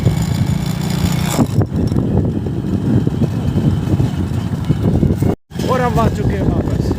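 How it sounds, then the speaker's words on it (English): A motorbike is ridden along roads in Kashmir, its engine a steady close rumble with wind noise throughout, and a rider talking over it. "Here I am riding the bike."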